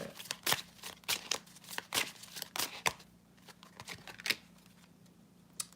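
An oracle card deck is handled as a card is pulled, giving a quick run of crisp card slaps and shuffling flicks, close and soft, that thins toward the end. There is no talking.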